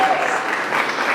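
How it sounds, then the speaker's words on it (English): Wedding guests break into steady, dense clapping during a toast, a continuous burst of applause filling the room with no voices standing out. "yeah, go ahead, clap"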